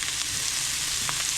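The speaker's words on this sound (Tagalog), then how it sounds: "Then, lagay po natin ang sabaw." Broth goes into a hot pan while cooking pork kare kare, giving a brief burst of loud, hissing sizzle that stays dense and constant for just over a second.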